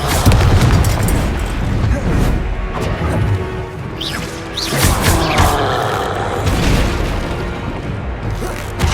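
Confringo fire spell blasting in Hogwarts Legacy, a loud booming explosion amid continuous dense game combat noise, with crackling bursts and whooshes layered over a steady roar.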